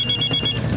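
A telephone rings with a quick, bright electronic trill, loud and close, lasting under a second with no voices.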